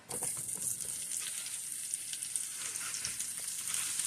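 Mushrooms and a chopped whole onion fry in melted butter in a pan on a hot burner, giving a steady, close, continuous sizzle and crackle with no talking.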